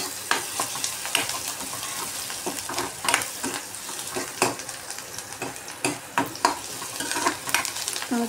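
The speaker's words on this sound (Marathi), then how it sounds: "तर हे आपला कांदा फ्राय होतो आहे." Onion fries in a pan at home with a continuous sizzle, punctuated by frequent sharp clicks and scrapes of a spatula against the metal as it is turned.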